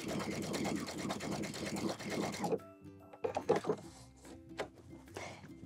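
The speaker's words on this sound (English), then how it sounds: "So I'm just gonna be running one row of basting stitches along the bottom edge of the bodice." Sewing machine running a row of basting stitches along the bottom edge of a 1930s dress bodice, whirring steadily up close for a few seconds before stopping, followed by a few scattered handling clicks.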